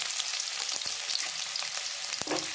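Onions frying in oil in a pan, a continuous dense close sizzle with light stirring scrapes throughout and no talking.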